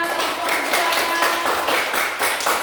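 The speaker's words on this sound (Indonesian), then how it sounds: "Oke, tepuk tangan dulu untuk Ova" Classroom clapping for a student, a group of pupils applauding in quick, slightly uneven claps that sound close and lively throughout.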